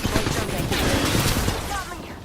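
Gunfire in the video game Apex Legends, a dense run of sharp shots and bursts through the whole stretch, loud and close, with a player's voice over it.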